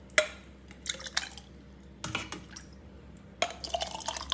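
Palm sap mixed with mango is poured into a tumbler in short bursts, with dripping, splashing liquid and glassy clinks from close by, no talking.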